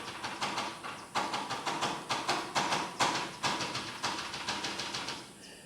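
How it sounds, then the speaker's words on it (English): Rapid, regular knife chops on a board in a kitchen, a steady rhythmic series of sharp taps at moderate volume with no talking. "Right now you may hear some chopping in the background."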